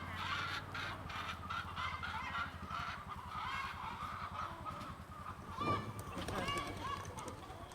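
A flock of chickens being moved to a new home keeps up a continuous clamor of honking, clucking fowl calls, with overlapping squawks and a busy background of rustling and movement throughout.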